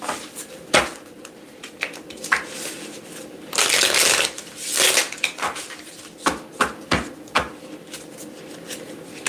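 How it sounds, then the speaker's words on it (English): Cards being shuffled up close: a couple of longer riffling bursts between sharp snaps and taps, loud and irregular, with no talking. "I'll do a little shuffling in the meantime."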